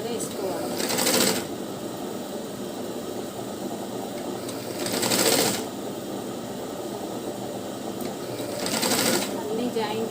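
A sewing machine runs steadily while stitching a blouse lining, its close, continuous whirr swelling into three louder stretches spaced a few seconds apart.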